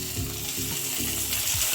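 Steady, loud sizzling of garlic, ginger and spices frying in a pan while paneer ghugni is being made, with tomato going in and a few soft stirring scrapes over the continuous hiss.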